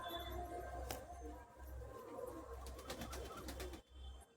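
Teddy pigeons in a loft in Kolaghat, Medinipur, give soft, low, repeated cooing in a steady rhythm, heard fairly close amid faint rustles and clicks.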